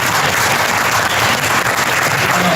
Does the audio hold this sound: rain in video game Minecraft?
no